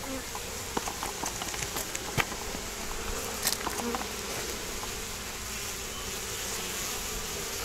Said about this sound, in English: there was a funny buzzing sound associated with this clustering